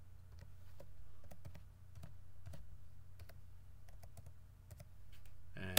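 Computer keyboard being typed on during a server setup, with light irregular key clicks in short bursts over a quiet hum, ending with one sharper key press.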